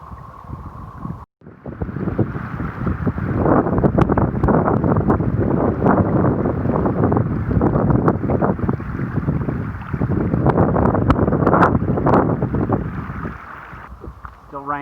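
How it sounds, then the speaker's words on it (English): High winds and sideways rain batter a mountain trail near the summit of Roan Mountain, a loud, continuous roaring gust-filled rush close to the microphone with scattered sharp patters, after a brief dropout near the start. "being battered by high winds, sideways rain."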